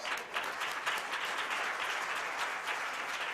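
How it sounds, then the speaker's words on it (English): An audience at a Black History Month celebration gives a sustained round of applause, an even wash of many hands clapping at moderate volume. "Let's give a round of applause."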